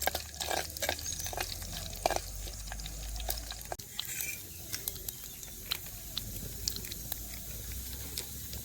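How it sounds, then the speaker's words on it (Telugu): Cardamom, cloves and shahjeera frying in oil in a pan while a spoon stirs them, giving a steady low sizzle broken by repeated scraping clicks and taps, with no voices. "ఒక ఇలాచీ బుడ్డ రెండు లవంగాలు షాజీరా కలిపి వేసుకుందాం దీన్ని ఒక రెండు నిమిషాలు నూనెలా మంచిగా కలాయించుకొని"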